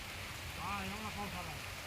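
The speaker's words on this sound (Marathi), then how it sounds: "पाऊस चालू आहे" Steady rain hisses throughout over a rose field, with a faint voice murmuring somewhere in the background.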